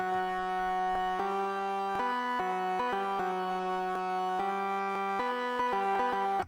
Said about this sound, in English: The preset is called Church Pad, and the pattern sounds something like this.